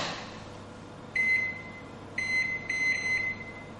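A microwave oven running at medium power ends its timer with three clear electronic beeps, one short pause then two close together, over a low steady hum.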